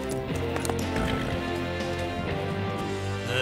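Horse hooves clip-clop steadily under a music score in a Lucky Luke cartoon scene, the rhythmic trotting continuous and fairly close for the whole stretch.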